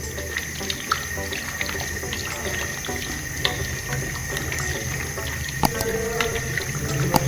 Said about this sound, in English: after that you're going to wash your hands